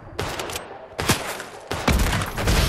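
Hunting rifle shots in the video game Fortnite: three loud, sharp cracks spaced about a second apart, each followed by a short rumbling tail and game noise.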